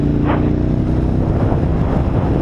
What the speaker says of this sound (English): So when I checked, we had 35-mile-an-hour gusts.